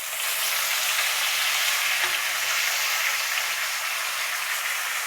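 Chopped tomatoes frying with potatoes in a pan make a dense, continuous hissing sizzle, close and even throughout, with no talk.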